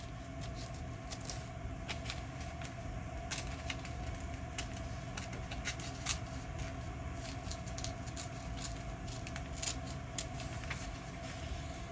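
Scissors cut out paper pictures of two ladies for a handmade vintage sewing tag, giving a steady, close run of soft snipping and paper rustle with no talk.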